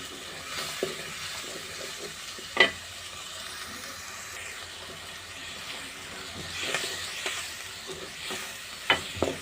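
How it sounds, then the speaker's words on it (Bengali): Onion, green chilli and garlic paste cook in a pan on the stove with a low, continuous sizzle, marked by a few sharp utensil clanks and light stirring scrapes. "এখানে পেঁয়াজ কাঁচামরিচ আর একটু রসুন বাটা দিয়ে চুলায় বসিয়ে দিয়েছি"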